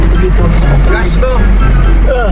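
An ex-Camel Trophy Land Rover Defender 110 accelerates with a loud, deep engine rumble heard close up, as voices talk over it.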